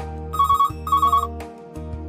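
An incoming call rings on a television call-in show: a telephone trill sounds in two bursts over a steady low music bed, fairly loud and close, with no talk during the rings.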